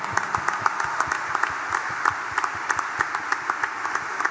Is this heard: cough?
no